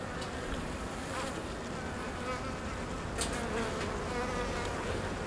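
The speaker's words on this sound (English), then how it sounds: "There's always a honeybee in the hive. They cycle in and out." Steady, soft buzzing of honeybees around a hive, a continuous insect drone with occasional nearer passes.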